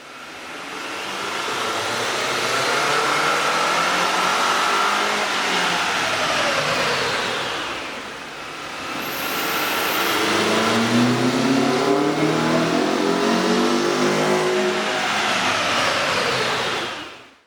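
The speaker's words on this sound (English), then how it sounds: "You can really see and hear the difference the K&N air intake system will make to your car." Toyota Camry 2.5L engine fitted with a K&N air intake revs up and down twice, with rising and falling intake roar and exhaust drone that is loud and steady, with no voices.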